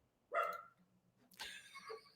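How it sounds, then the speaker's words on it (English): A dog barks in the background, two distinct barks with a short pause between them, moderately faint and heard alone without talk. "As a dog is barking in the background"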